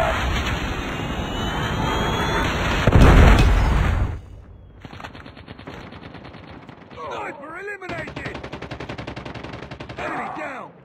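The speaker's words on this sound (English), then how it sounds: "Predator missile inbound" In Call of Duty multiplayer, a Predator missile strike lands as a loud, heavy explosion among rapid gunfire, followed by more bursts of shooting and brief game voices.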